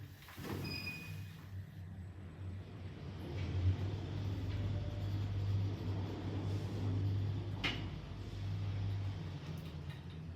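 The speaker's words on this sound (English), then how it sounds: "Please mind the doors. Doors closing. Going down." Lift doors slide shut, and then a steady low hum and rumble carries on as the car goes down. A faint click sounds near the end.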